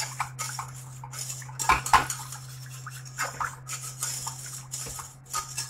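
Metal utensil scraping and clinking in a pan as milk is stirred into a sauce for a pasta gratin, a series of irregular light taps and scrapes close by, with a steady low hum underneath and no talk.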